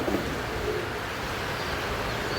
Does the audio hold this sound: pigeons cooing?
yes